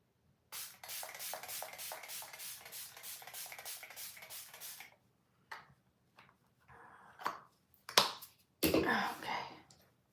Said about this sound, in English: I'm going to take a setting spray by Milani